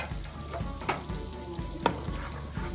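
Flour roasting in hot oil in a pan for a white pasta sauce: a low, steady sizzle with two sharp spoon knocks against the pan and faint scraping, close and quiet, with no voices.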